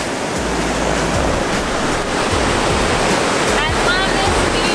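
Surf rolling onto a tropical beach at Manuel Antonio, a loud, steady wash of breaking waves and foam filling the scene, with low rumbling pulses and faint voices beneath.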